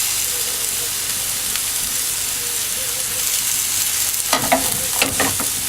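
Marsala wine bubbles and sizzles with pork in a hot pan, a steady hiss that grows sharper with sudden crackling bursts near the end as the wine is flambéed.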